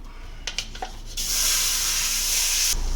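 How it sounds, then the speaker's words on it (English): Chorizo sizzling in a hot stainless steel pan: a few quick scraping clicks, then a loud, steady hiss that starts at once and holds for over a second before cutting off. "Once your stainless steel is nice and hot, you're gonna go ahead and toss in all of your chorizo and start sauteing that up."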